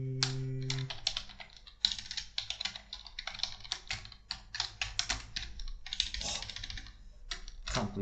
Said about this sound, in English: Can't believe that I live code with this awful typing.